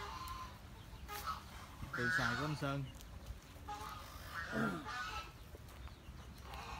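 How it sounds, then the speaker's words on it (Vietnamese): Chickens cluck and squawk among poultry kept on a large mango orchard in Cam Ranh, Khánh Hòa, with a few clear calls standing out over steady outdoor background while someone talks. "Ở đây là mình có gà, đồ đầy đủ gà luôn."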